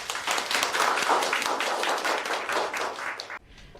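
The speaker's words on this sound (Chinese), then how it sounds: "大家给他鼓鼓掌" A small group of people in an office meeting claps together, a dense burst of hand claps lasting several seconds before cutting off.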